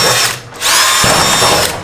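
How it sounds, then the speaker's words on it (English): A power drill with a 1/8 bit bores rivet holes in an overhead garage door: a loud, close high whine that dips briefly, then spins back up and runs steadily. "I'm going to use a 1/8 drill bit."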